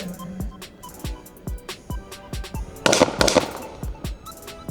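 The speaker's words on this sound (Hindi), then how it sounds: "दुश्मन पर फायर करना और आगे बढ़ने का अमली मुजाहिरा आपके सामने पेश किया जा रहा है" Gunfire at an SCTC Sakrand commando firing-range combat shooting demonstration: a rapid series of about a dozen sharp, evenly spaced shots, with a denser cluster of bursts in the middle, loud and near.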